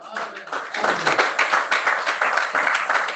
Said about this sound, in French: Applaudissez le Seigneur de gloire.